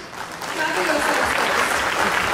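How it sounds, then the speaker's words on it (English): A seminar audience at an IAS event breaks into a steady round of applause, swelling within the first half-second and holding loud and dense throughout. "For all those who answered this question, a big round of applause, please."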